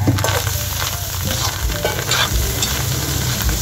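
Pork loin and heart for an Ilocano pork igado sautéing in a pan, with a steady close sizzle and repeated scraping stirs running throughout, loud and continuous with no voices.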